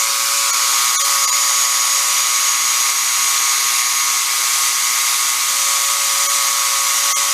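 A salvaged Basket Case carpet shampoo machine runs steadily with a loud, constant electric motor whine and airy hum, close by, with a few faint clicks and no speech over it.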